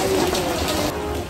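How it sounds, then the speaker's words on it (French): Steady rain patters on surfaces during a cruise, a dense wash of droplets with a few faint bird calls in the background. "C'est la pluie."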